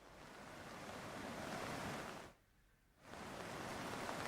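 A swollen river rushes hard during heavy monsoon rain in Himachal Pradesh, a dense, steady roar of water that drops out briefly midway before returning at full strength.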